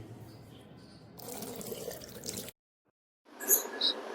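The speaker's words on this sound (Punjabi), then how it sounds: "ਆਓ ਪਹਿਲਾਂ ਆਪਾਂ ਹੱਥ ਇੱਥੇ ਧੋਨੇ ਆ" Water runs from a tap as hands are washed at Gurdwara Sis Ganj Sahib: a steady nearby splashing stream that grows louder, stops abruptly for a second of silence, then resumes with brighter splashes.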